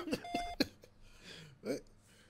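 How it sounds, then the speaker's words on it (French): An Orange voicemail beep sounds as a single short steady tone after speech and breath sounds, with faint mumbling after it. "Veuillez laisser votre message après le bip."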